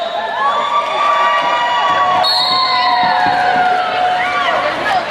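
A roller derby crowd at a Clover Cup bout between Kansas City and Houston cheers loudly and continuously, with shouts and whistles over a dense roar that fills the hall the whole time.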